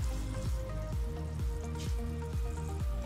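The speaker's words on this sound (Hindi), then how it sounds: "इसे स्लो और मीडियम फ्लेम में धीरे धीरे पकाते हैं दोस्तों मसाले को" Masala frying slowly in a pan over a slow-medium flame, a soft continuous sizzle with rhythmic bubbling pops that repeat about every half second, close and fairly quiet.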